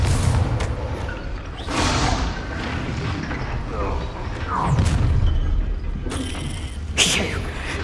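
A fiery Confringo spell blast from combat in the video game Hogwarts Legacy, heard as deep booming thuds layered over busy game sound and voices.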